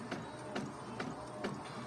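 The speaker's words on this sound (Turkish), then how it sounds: "Ben onu şimdi yazıcıdan çıkartıyorum. Evet çıkıyor kendisi." An office printer feeds out a printed PDF page, its mechanism giving regular rhythmic clicks about every half second over a steady whirring drone.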